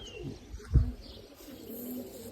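Pigeons cooing at a rooftop feeding spot, a few soft low coos and faint chirps against quiet background noise, with one louder close burst partway through.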